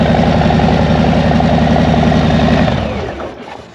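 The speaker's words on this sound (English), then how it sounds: "the Milwaukee 8s have got this low rumble to them" A 2021 Harley-Davidson Street Bob with a Milwaukee-Eight V-twin idles in a loud, steady, close low rumble with a pulsing beat, then fades out near the end.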